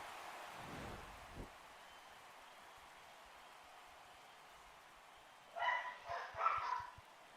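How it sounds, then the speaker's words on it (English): Several dogs bark in a quick cluster of overlapping yaps late on, moderately distant, after a long stretch of quiet background noise with a faint thump earlier. "Y'all hear these crazy ass fucking dogs?"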